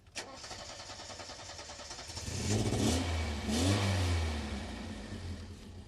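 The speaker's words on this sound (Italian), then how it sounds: "adesso vi faremo sentire in moto il motore non appena l'accenderà mio padre" A vintage Alfa Romeo car engine cranks and catches, then revs up in a couple of rising swells before settling into a bright, steady idle, heard at moderate distance with no talk over it.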